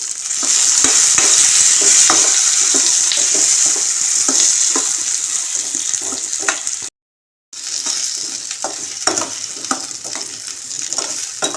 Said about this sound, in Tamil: இப்போ இந்த தக்காளியும் நல்லா வந்து வதங்கட்டும்